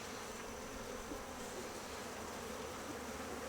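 Honeybees buzz around an opened hive during a feeding and first-week inspection, a dense, steady, fairly faint drone of many wings close by, with no speech.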